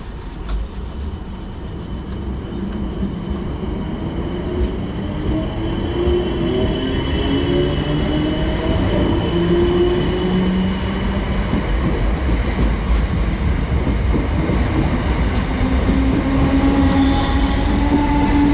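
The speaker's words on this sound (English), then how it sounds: "going out now is the 10:50 South Western Railway service to Wimbledon from Dorking" A South Western Railway train pulls out of Dorking bound for Wimbledon, its steady rumble building and holding loud and close, with faint rising whine and wheel noise over nearly twenty seconds.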